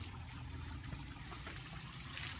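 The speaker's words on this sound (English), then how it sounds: "So check out this waterfall." Water runs steadily down a backyard garden waterfall, a faint continuous trickle and splash with no break and no voices.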